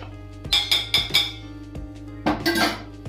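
A metal spoon clinks sharply against a cooking pot while stirring halwa, three quick taps in a row, a pause, then a louder burst of scraping and clatter near the end, close and with no talk.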